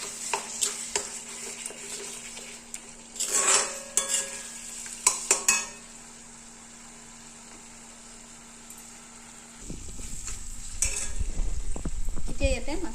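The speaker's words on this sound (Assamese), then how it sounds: "অকণমান সময় এইখিনি ফ্ৰাই কৰিম" Cardamom and cinnamon spices fry in a pan for mushroom curry, a steady faint sizzle with a few sharp utensil clinks and scrapes near the start, then a louder, rougher frying burst toward the end; no talk.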